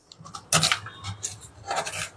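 Coconut flesh is scraped from the shell in short, rasping strokes, a few separate scrapes close by and fairly quiet, with pauses between them.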